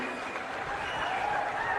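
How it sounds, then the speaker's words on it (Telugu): An audience of officials applauds in a meeting hall, dense steady clapping that holds for the whole moment at moderate loudness. "గట్టిగా చప్పట్లు కొట్టి అభినందించండి."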